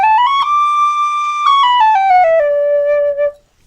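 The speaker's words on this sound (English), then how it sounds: "Scales are basically playing up and down all the notes on your tin whistle in order." Tin whistle playing a scale, clear, pure tones stepping upward and then descending note by note, loud and close, played alone and ending on a held low note.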